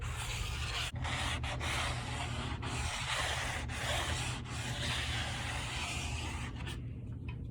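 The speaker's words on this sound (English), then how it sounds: "now on these live edges, just real lightly with this 320. I'm gonna go over it." Black walnut live edges of a coffee table being lightly sanded by hand with 320 grit sandpaper, a close, continuous hissing rub broken by a few brief gaps between strokes, with no voices.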